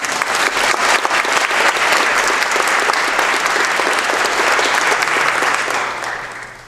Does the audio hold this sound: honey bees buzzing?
no